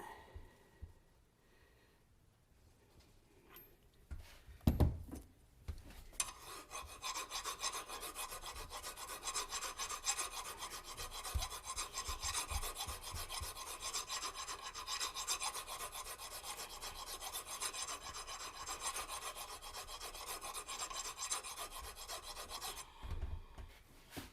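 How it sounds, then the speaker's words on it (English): A hand file rasping over a crankshaft journal on a 2.7 L engine makes a long run of close, steady back-and-forth scraping strokes for nearly twenty seconds, after a few quieter clunks of handling. "Your file will bite while the peaks are still there"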